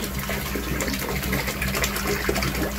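Pump in a BioCleaner wastewater treatment station, driven by an air distributor, returning water; a steady close gush and splashing flow with a low constant hum, no talk.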